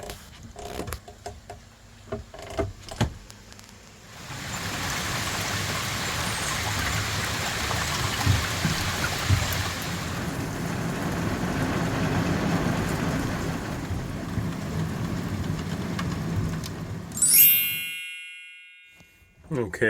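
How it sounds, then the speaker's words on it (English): Rain falls on a boat on the Tennessee River during scattered showers, a steady, dense patter that starts after a few seconds of quiet and continues until it cuts off near the end. "I keep getting lucky and stay on the boat when it starts to rain"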